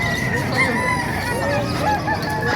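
Roosters and chickens at a poultry market in Calumpit, Bulacan crow and cluck continuously, several birds overlapping at moderate distance over a busy background hum.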